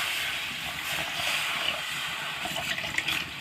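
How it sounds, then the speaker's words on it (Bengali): Water pours into a cooking pot of greens and turmeric, giving a steady hissing, splashing rush that runs throughout at moderate volume with no talk. "এখন আমি দিয়ে দেবো জল।"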